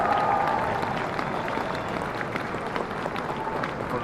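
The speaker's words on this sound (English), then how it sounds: "We're getting some clapping up in here" A crowd applauds steadily throughout, dense clapping at a fairly even level with no letup, as at a fan event such as San Diego Comic-Con.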